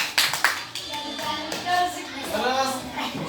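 Hands clap in a short burst of applause in a classroom during a lesson, several sharp claps near the start, with children's voices chattering underneath and continuing after the clapping fades.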